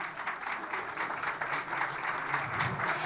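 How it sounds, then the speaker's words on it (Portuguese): Steady applause from an audience honouring the ESPRO organisation at an event, a dense wash of many hands clapping at moderate distance and fairly quiet, continuing throughout. "uma salva de palmas"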